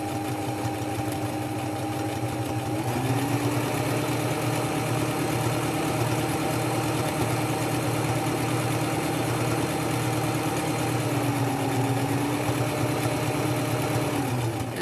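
A sewing machine stitches fabric for a small mini messenger bag, its motor humming steadily and evenly for the whole stretch, close and moderately loud with no talking.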